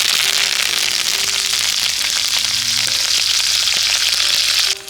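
Curry leaves sizzling loudly in hot frying oil for Gobi 65, with a dense, steady crackle and hiss that holds at full strength throughout and drops off abruptly at the very end; no talking.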